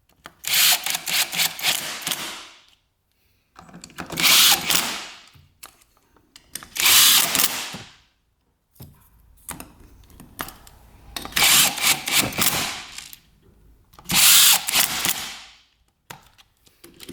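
Power tool driving bolts into dirt bike engine case halves, heard in five loud bursts of a couple of seconds each with short quiet gaps between them, close up and with no talking.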